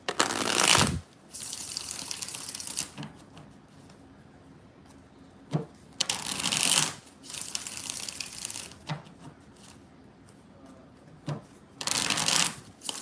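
Tarot cards are riffled and shuffled in several bursts, each a crisp rapid flutter, separated by quiet pauses with soft handling sounds.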